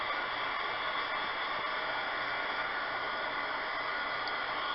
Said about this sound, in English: You're just manipulating it with your heat gun.